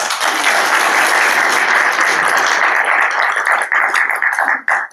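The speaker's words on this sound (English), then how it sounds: "Big round of applause." An audience at a Pakistan Society event on peace and security in South Asia gives a big round of applause: dense, steady clapping that fills the room for several seconds, then thins and breaks up toward the end.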